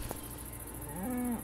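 A cow in Minecraft gives a single short, low moo that rises and holds briefly over a steady hiss of insect-like ambient noise.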